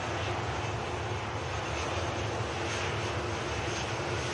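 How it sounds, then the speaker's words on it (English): TUI Boeing 737 MAX 8 airliner lining up on the runway at Manchester Airport, a steady broadband jet engine roar heard from a distance, continuous and even with no talking. "Next to line up is the TUI we saw passing by as the Singapore departed. TUI Max 8."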